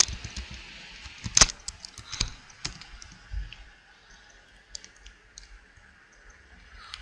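Computer mouse buttons clicking at a desk while someone opens a link in an FTP file manager: a few sharp, separate clicks, louder near the start, then faint scattered ticks in a quiet room.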